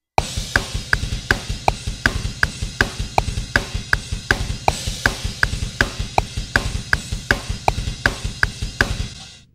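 A programmed drum track plays back in home recording software, a fast, steady beat of punchy hits with regular brighter accents, close and loud, running throughout without talk.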